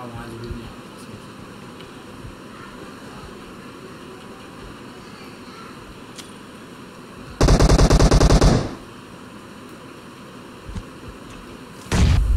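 Machine-gun fire in a video game shooter, laid down as covering fire: a quiet ambient stretch broken by one loud, rapid burst lasting about a second, then another burst starting right at the end.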